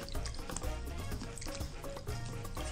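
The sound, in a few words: water rinsing rice in a bowl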